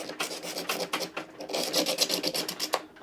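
Knife drawn through a Chef's Choice pull-through sharpener: quick rasping scrapes repeat in short strokes, close and fairly loud, with no voice over them.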